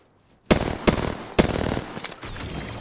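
Gunfire in the shooter game Apex Legends: after a quiet start, loud close bursts of rapid automatic shots crack in a few sharp volleys, with rattling fire continuing between them.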